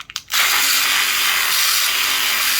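A drill makes holes in the side of a homemade urinal, starting with a few short clicks and then running in one steady, loud, close whir.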